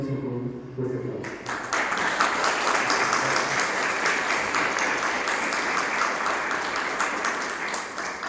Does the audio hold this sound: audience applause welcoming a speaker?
yes